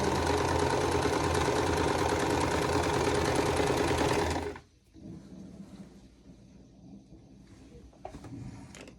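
A sewing machine stitching vintage quilt blocks runs loud and steady for about four and a half seconds, then stops, leaving quieter handling noises and a few light knocks.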